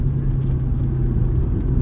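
A 1990 FC Mazda RX-7 rolls downhill, its rotary engine a steady low drone and whir, with constant road rumble heard from inside the cabin, no speech.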